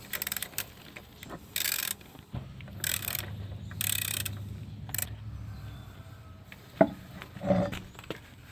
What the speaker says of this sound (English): Go ahead and finish removing our lugs.